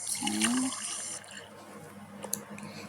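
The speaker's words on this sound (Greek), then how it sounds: "Εκεί θα του βάλω λίγο νεράκι." A little water is poured into a cup of coffee at home. A short, close trickle comes near the start, then fades into quiet kitchen handling and a faint clink.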